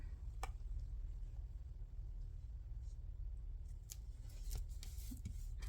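Scissors snip through craft paper for a masterboard and tag bases, giving a few sharp, separate cuts at an uneven pace over a low steady hum, fairly close and moderately quiet.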